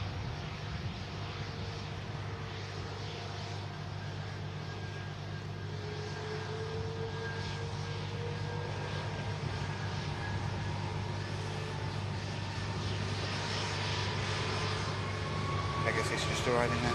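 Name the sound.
Atlas Boeing 747 engines spooling up and climbing out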